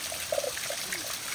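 Water trickling and dripping onto a rock it has worn a hole through in a Meghalaya garden, with a soft close dribble and a few small splashy drops over about a second and a half.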